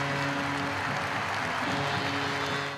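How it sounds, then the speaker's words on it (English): Large ice hockey arena crowd of more than 8,000 fans applauding in tribute to Nottingham's number 47 after a two-minute silence, a dense, sustained roar of clapping throughout. "And then the applause for Nottingham's number 47."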